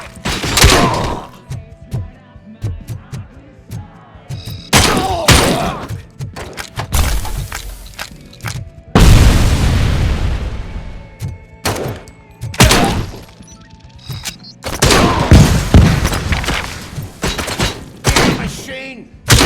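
Gunfire and crashing impacts from the RoboCop video game come in loud, dense bursts separated by short lulls, mixed with in-game voices.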